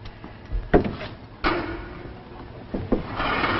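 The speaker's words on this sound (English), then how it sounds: "Margaret, open the door." A wooden door is opened in an old television drama, with a few close knocks and clunks followed by a creaking slide and softer thumps.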